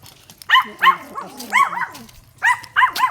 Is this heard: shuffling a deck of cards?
no